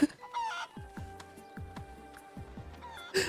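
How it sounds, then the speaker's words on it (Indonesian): Chicken being caught in GTA V, a few sharp, falling clucks and squawks close by, with chatter-like noises around them. "Menangkap ayam dengan gaya, cu."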